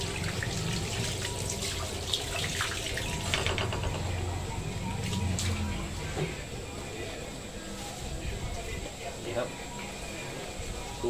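Eel being washed under a running tap, with steady splashing water and faucet flow over a pan or sink, continuous throughout, while someone talks over it.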